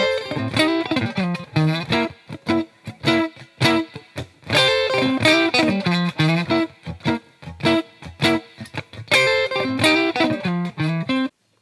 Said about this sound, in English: This is a cool little blues lick.